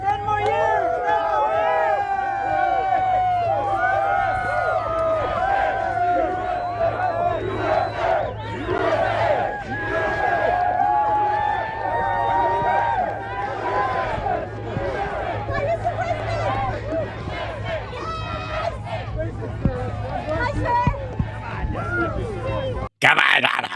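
A large crowd at a live event cheers, shouts and chants together in a loud, sustained roar with many overlapping voices, swelling and dipping over time before cutting off abruptly near the end.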